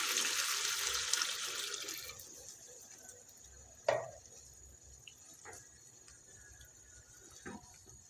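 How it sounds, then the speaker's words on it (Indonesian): Water poured into a cooking pot while spicy-sweet chicken feet cook, a steady splashing pour for the first couple of seconds, then fading to quiet kitchen sounds with a few brief clinks. "Tambahkan air."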